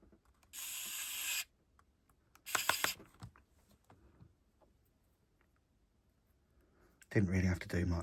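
A Nintendo Switch Lite rear shell snapping into place: a quick cluster of small plastic clicks, set between bursts of hissy handling noise in a quiet room.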